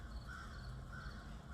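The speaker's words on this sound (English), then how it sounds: "crows. You can hear them in the background." Crows caw repeatedly in the distance, two drawn-out calls rising faintly above a steady, low background rumble.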